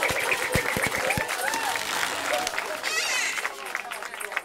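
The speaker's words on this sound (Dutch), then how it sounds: "Oké, applaus Peggy Wilders!" Carnival-session audience applauding performer Peggy Wilders in a crowded hall, a busy sustained roar of clapping and crowd noise with a few loud near claps at the start.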